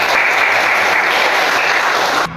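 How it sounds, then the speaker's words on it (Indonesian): Classroom applause during a teacher performance exam, a loud, dense, even wash of clapping that holds steady for about two seconds before cutting off abruptly. "kita beri tepuk tangan"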